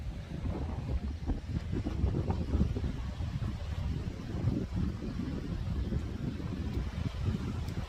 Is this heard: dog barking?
no